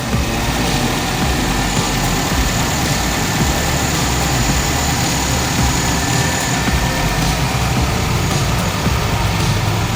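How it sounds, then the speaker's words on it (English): A 2015 Nissan Rogue S AWD engine runs steadily at idle, close up and loud, as a continuous even hum with no talking. "Let's listen to the motor here."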